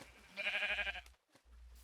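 A single sheep bleats in a Minecraft-style survival game, a short wavering cry lasting about half a second, faint and close, followed by quiet game ambience.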